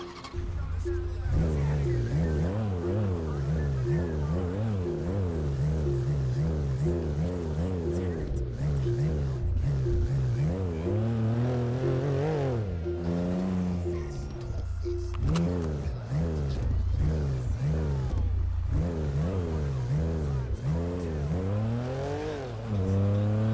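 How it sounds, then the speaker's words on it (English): A BMW car engine in a video game revs and roars repeatedly, pitch climbing and dropping through gear shifts, loud and continuous with a game-like synthetic quality. "It's not the same sound, y'all. It's different. It's a BMW sound."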